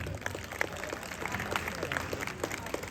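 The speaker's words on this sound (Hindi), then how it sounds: "एक जोरदार तालियां हमारी सोसाइटी की म्यूजिक टीचर के लिए" An audience claps for a housing society's music teacher at a Republic Day (26 January) celebration, a steady wash of moderate applause sustained throughout, slightly distant.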